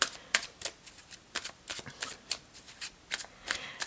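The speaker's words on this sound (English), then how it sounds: "I'm gonna pull a couple more oracle cards" Crystal healing oracle cards being shuffled and pulled, a quiet run of crisp card flicks and riffles in irregular bursts, close and soft with no talking.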